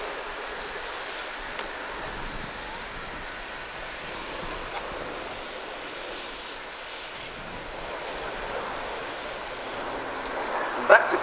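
An Airbus Military A400M turboprop flies past at RIAT, its steady engine and propeller drone carrying through the whole stretch with a commentator talking over it.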